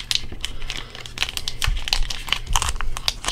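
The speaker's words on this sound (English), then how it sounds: "Jeez, the pack's hard to open." Foil wrapper of a Pokemon card booster pack being torn and crinkled open by hand, a close run of sharp crackles and rips in uneven bursts, with no talking.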